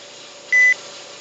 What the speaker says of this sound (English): Now I will turn off the phone.